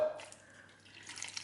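Water pours slowly into a cooking pot of dum pukht steam-cooked meat, a short close trickle and splash that thins out and then picks up again briefly, with no talking.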